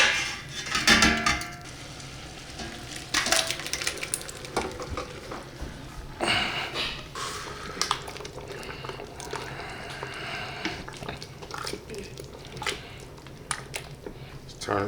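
Homemade spaghetti meat sauce being moved between pots and combined in a big pot, with wet squishing, sizzling and clanks of pots and a spoon throughout, and a voice talking at times.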